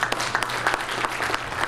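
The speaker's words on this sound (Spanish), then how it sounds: "Les aplaudo a Dios si usted lo cree" A church congregation applauds during a sermon, many hands clapping loudly and close with slightly uneven, rhythmic peaks over a faint low hum.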